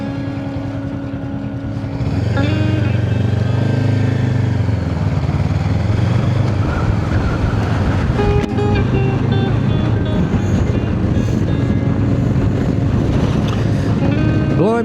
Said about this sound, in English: Blimey, it's a bit windy up here as well.